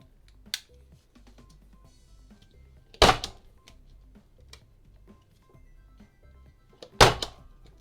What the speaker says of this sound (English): Now, I'm gonna staple them in.